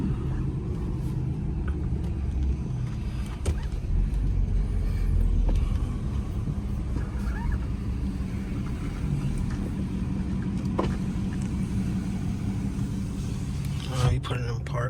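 A BMW M3 F80 drives with a low, steady engine rumble from inside the cabin, and people talk over it for most of the clip.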